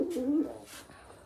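Pigeons make a soft, low cooing call close by, with a warbling coo in the first half second that then trails off into quiet background.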